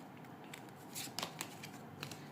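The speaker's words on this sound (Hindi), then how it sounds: "चलिए करंट सिचुएशन पे कार्ड्स हम लोग निकालते हैं थोड़े बहुत" Tarot cards being drawn and handled during a reading give off a few faint, soft clicks and flicks close by over a quiet background.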